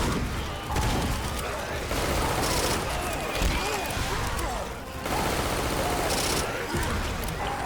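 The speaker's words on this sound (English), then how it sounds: "Shoot it! Shoot it!" Dense, continuous gunfire in Left 4 Dead 2 during the Swamp Fever chapter, rapid loud shots blurring into a heavy barrage, with voices talking and shouting over it.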